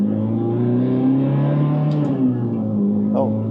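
A black 2007 Ferrari F430 accelerates in first gear, its engine note climbing steadily and loudly from close inside the car, dipping briefly at a shift, with a voice speaking over it.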